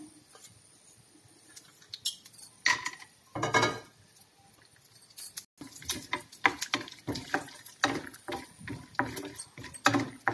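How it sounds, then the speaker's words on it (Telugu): Mustard seeds, cumin and peanuts sizzle and crackle in hot oil, with irregular pops and spatters bursting over a low frying hiss. "ఆయిల్ హీట్ ఎక్కింది మనం ఆవాలు జీలకర్ర వేసేసుకుందాం అలాగే పల్లెలు కూడా వేసేసుకుందాం"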